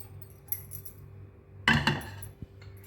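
A metal lid is lifted off a pot of steamed rice-flour dough for modak, giving a sharp clatter and rattle of metal on metal, then a small clink, under a steady low hum.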